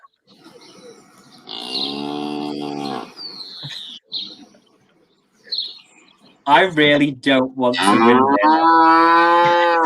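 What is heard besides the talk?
cow mooing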